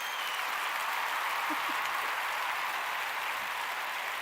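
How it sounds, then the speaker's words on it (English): An audience at a pipe makers' awards show applauds honorable mention winners, giving a steady wash of many hands clapping at a moderate, even level throughout. "I want to give them a clap here"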